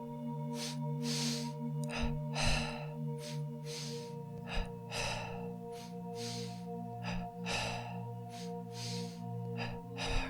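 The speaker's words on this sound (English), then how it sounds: "We'll start with 10 breaths in the belly as our first round." Double-breathing pranayama into the belly, with forceful rhythmic inhales and exhales repeating in quick pairs across the round, close and clear over a low steady musical drone.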